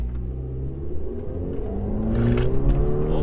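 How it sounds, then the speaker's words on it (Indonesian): A car pulls away uphill from a standstill using hill assist, its engine rumbling low and building steadily as it accelerates, close and continuous with no talking. "dari berhenti kita gas nih sekarang"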